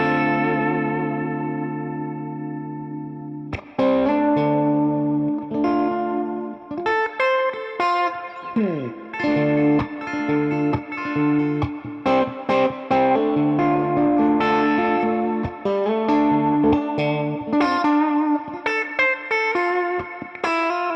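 Suhr electric guitar played clean through the middle and split bridge pickups, a sustained chord followed by a busy run of bright picked notes and quick riffs with a shimmering effect, close and steady with no talking.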